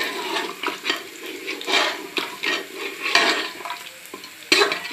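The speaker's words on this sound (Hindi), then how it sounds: "इसलिए धीरे से डाल दूंगी और जल्दी से चला दूंगी।" Liquid pours slowly into a pan over low heat while a spoon stirs quickly, giving a close, uneven run of scraping and sizzling bursts; no voices are heard.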